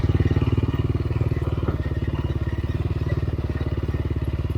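A motorcycle idles on a rocky off-road trail near Creede, Colorado, clutch pulled in, its engine putting out a steady, close, even pulsing thrum throughout.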